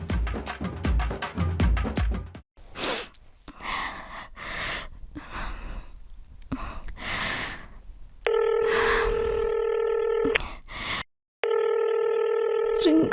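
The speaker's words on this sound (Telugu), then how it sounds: "రింగ్ అవుతుంది, లిఫ్ట్ చేయడెందుకు?" A phone call ringing out, heard as a repeating electronic ring tone in two long bursts with a short gap, following a stretch of people talking over music.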